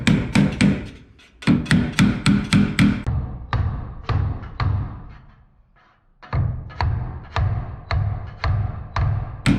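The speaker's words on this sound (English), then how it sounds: "we take the hammer and we just tap those corners together" A hammer taps metal shower corners together in quick, evenly spaced strikes, close and crisp, in two runs separated by a short pause.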